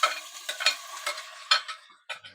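Browned onion and celery being sautéed and stirred in a pan, a close sizzle broken by repeated scraping strokes of a spoon, alone, with a brief pause near the end.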